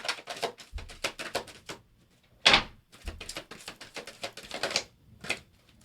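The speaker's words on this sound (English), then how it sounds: "ASMR on that shuffling though." Tarot cards are shuffled up close in a steady run of papery flicks and riffles, with one sharper, louder snap partway through and brief pauses between bursts.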